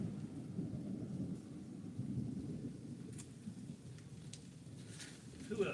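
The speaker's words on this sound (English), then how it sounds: "Can y'all hear the thunder?" Thunder rolls low and distant during a storm, a faint, steady rumble that swells and fades through the quiet background with soft rain-like hiss.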